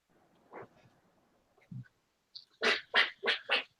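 A man imitates Donald Duck, giving four loud, raspy quacks in quick succession after a few faint, scattered sounds.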